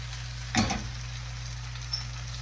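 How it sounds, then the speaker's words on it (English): A brief burst of sizzling from vegetables, onion and apple, roasting in a hot pan, quiet and close, over a steady low hum, with a faint click later. "you can hear the vegetables roasting"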